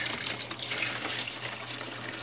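Water poured from a container into an aluminum foil baking pan for terra cotta pot marbling, a soft continuous splashing trickle, close and fairly quiet with a low background hum.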